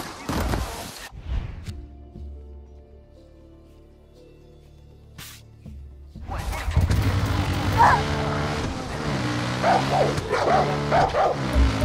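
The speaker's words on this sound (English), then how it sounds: "That's my dog." A dog barks and yips in the video game Far Cry 6. After a short burst and a quiet stretch, several sharp barks and whimpering yips come in, loud and close, amid dense game noise.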